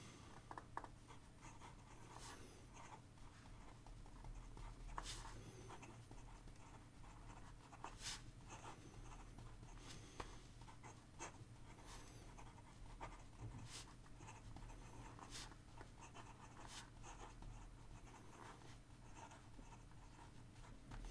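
A Montegrappa Harry Potter fountain pen with a stainless steel nib writes on paper in black ink, its faint scratchy strokes coming in short bursts over a quiet room hum, with no talking.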